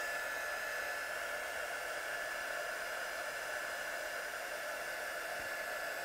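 A heat tool heat-sets glitter on stamped paper, giving a steady, close, hissing blow like a hair dryer that runs unbroken at even loudness the whole time.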